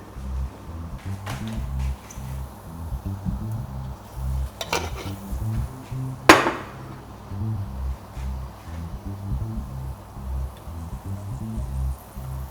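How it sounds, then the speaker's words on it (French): Pots, dishes and utensils clatter while cooked pasta is drained in a kitchen, with a steady low bubbling or pouring rumble beneath and a few sharp metallic clanks, one louder knock standing out midway. "Donc là je vais les égoutter."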